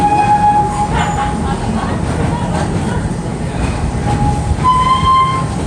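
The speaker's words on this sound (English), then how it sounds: "Please remain seated till the train comes to a full stop before you exit." An amusement park train rolling into Standardville Station at Busch Gardens, a loud, steady rumble of wheels on track with squealing, whistle-like tones of brakes as it slows, and faint voices in the background.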